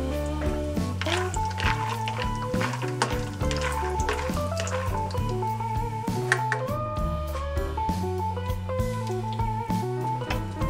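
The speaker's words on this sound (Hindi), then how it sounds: "आप पहले मूंगफली जो है उसको भी थोड़ा फ्राई कर लेते हैं" Peanuts fry in oil with a constant bright crackle and hiss, largely covered by loud, steady background music.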